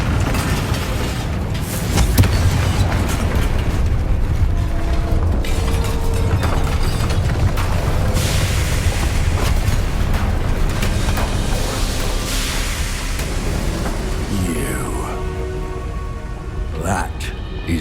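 A Confringo fire spell blasts in Hogwarts Legacy, a loud rumbling burst over dense, continuous game noise that sustains through the scene, with a voice calling out the spell.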